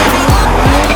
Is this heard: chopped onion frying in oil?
no